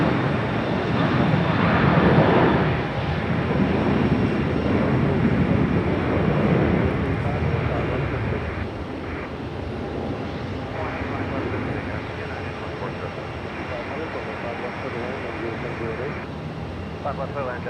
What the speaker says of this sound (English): All right, United 737 on the road.